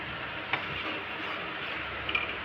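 Sago being stirred in a cooking pot, giving a continuous soft bubbling sizzle with a couple of light scraping ticks from the spoon, with no talk.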